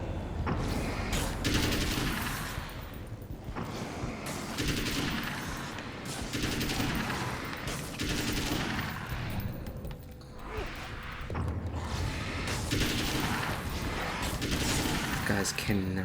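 Rapid gunfire and bursts of shooting from the Alan Wake video game play steadily throughout, dense and continuous, with someone talking over the action.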